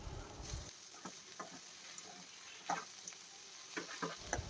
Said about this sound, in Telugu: ఇందులోకి నేను ముందుగా కట్ చేసి పెట్టుకున్న దొండకాయ ముక్కలన్నింటినీ వేసేసుకొని ఇప్పుడు ఈ పోపు అంతా దొండకాయలకు కలిసే విధంగా కలుపుకుంటున్నాను